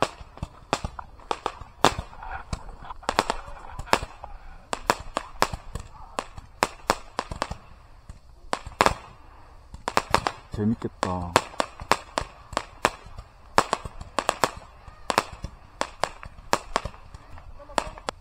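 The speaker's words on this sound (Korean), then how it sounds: "폭죽놀이 하고 있나봐요. 뭔가 빵빵 터져." Fireworks and firecrackers pop in sharp, repeated bursts near an oceanside island campsite, irregular cracks throughout, with a voice talking briefly over them.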